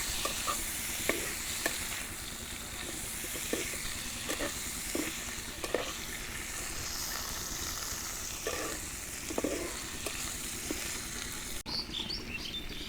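Vegetable stems (data) frying in a pan for Bengali chorchori give a steady, soft sizzle, with scattered light stirring clicks and scrapes throughout and no talk.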